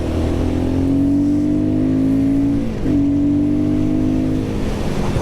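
Royal Enfield Guerrilla 450 motorcycle accelerating, a loud steady engine drone rising in pitch, dipping briefly at a gear change around the midpoint before climbing again, heard close up over wind noise.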